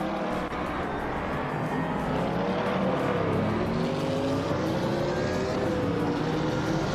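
Race car engines roar in a racing video game, a dense, continuous drone of several cars with pitch rising and shifting as they accelerate and jostle for position.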